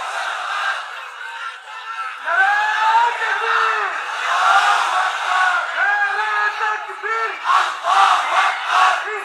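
A large crowd shouts a response in unison to a preacher during a Bengali religious sermon, repeated loud massed voices rising and falling together, close and forceful.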